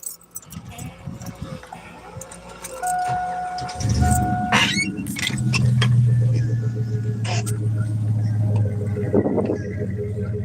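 A truck engine idles steadily with a low, even rumble and no knocking, close by. A few clanks and rattles come through early, and the rumble grows louder partway through and holds to the end.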